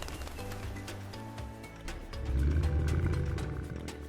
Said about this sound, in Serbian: Lav.